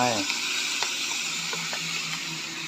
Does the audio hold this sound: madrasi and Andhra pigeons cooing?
no